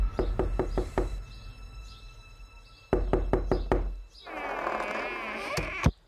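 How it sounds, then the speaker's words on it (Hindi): Sharp knocks on a door in rapid bursts of five or six, two sets separated by a quiet pause, close and loud, followed by a dramatic whooshing sound effect and a final thud. "अचानक उसके दरवाजे पर कोई खटखटाता है।"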